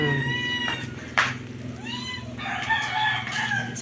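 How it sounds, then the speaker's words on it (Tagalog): A pet cat meows in greeting several times, close and fairly quiet, while chickens cluck and a rooster crows in the background of a rural yard. "Sasalubong agad. Ng aking alagang pusa."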